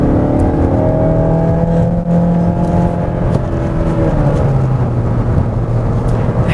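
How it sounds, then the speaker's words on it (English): A 2017 Mazda6 front-wheel drive sedan in sport mode with manual shifting, driven fast around a back-road corner; a loud, continuous engine drone with shifting pitch fills the interior, no talk. "I went around that corner at a significantly faster pace than you would imagine a front-wheel drive car can do."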